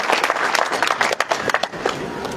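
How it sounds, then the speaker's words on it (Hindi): Crowd applause at a village campaign rally welcoming a political candidate, dense and energetic clapping from many hands close by, with brief dips as it flutters and continues steadily. "साथियों जोरदार ताली से स्वागत।"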